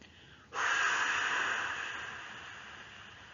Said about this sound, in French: Expiration, soufflez fort par la bouche pour chasser les tensions accumulées